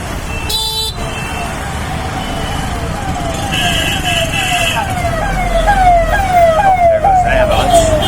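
An ambulance siren wailing in rapid repeated sweeps as it passes along a busy street in Agra, India, loud and close amid traffic rumble and engine noise.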